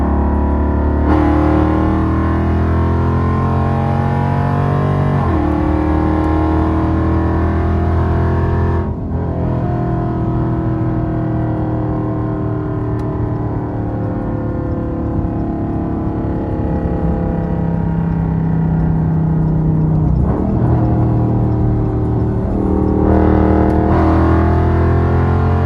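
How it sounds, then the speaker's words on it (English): Exhaust of a cammed Dodge RT or Scat Pack 392 V8 roars loud and close through long sustained revving pulls, with several throttle changes and brief lifts between climbs. "Exhaust note never gets fucking old."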